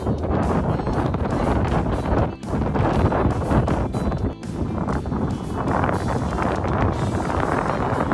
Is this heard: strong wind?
yes